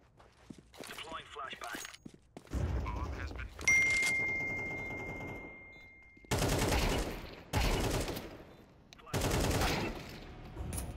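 Gunfire in the video game Counter-Strike 2, with several bursts of rapid shots separated by pauses, alongside footsteps, metallic dings and a tonal beep.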